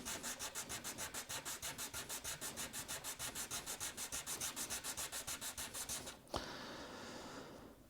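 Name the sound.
sanding down the nut of a Gibson Studio guitar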